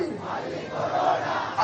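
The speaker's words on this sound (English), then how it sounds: "Just take a look at the crowds here." Crowd of protesters at Galle Face Green, a dense roar of many voices shouting together, loud and sustained over a short moment.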